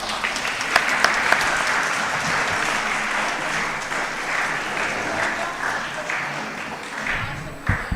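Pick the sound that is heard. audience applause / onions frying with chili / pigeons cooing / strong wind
audience applause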